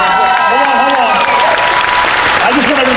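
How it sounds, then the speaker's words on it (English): Loud applause and cheering from a conference crowd at a Netroots Nation political event, steady and dense for the full three seconds, with a voice speaking over the clapping. "Give a round of applause."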